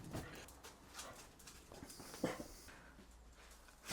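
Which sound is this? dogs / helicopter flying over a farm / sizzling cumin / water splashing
dogs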